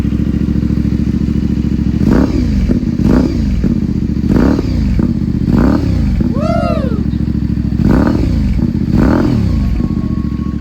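A Yamaha 450 SR motorcycle with an Akrapovic exhaust idles with a deep, throaty note, then blips the throttle in a series of sharp revs, rising and falling quickly, loud and close.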